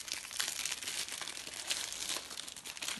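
Wrapping on a swap-exchange parcel is torn and crinkled by hand in a steady, close run of crackling and ripping with no pauses, and no voices are heard.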